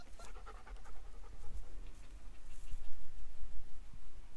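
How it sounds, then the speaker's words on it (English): A Great Pyrenees dog pants steadily and close by, quick rhythmic breaths running through the whole stretch at a soft level, with no talking. "He's a nice dog."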